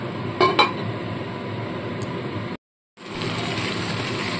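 A lid goes onto a cooking pot with a couple of light metallic clinks near the start, over a steady low background hum that briefly cuts out.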